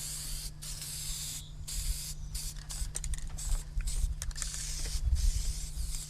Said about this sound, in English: We're going to give the frame a coat of paint using our epoxy chassis paint.